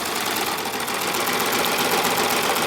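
A Baby Lock Evolution serger runs steadily through sheer tricot, a continuous fast whirring hum without pauses, close and fairly loud.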